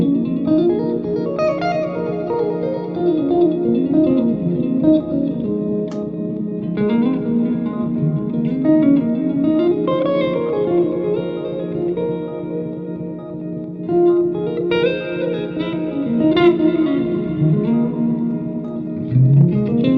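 Electric guitar played through a looper-like effect on a Line 6 Helix running firmware 3.0, sustained layered notes with echo and reverb trails, steady and loud throughout with no talking.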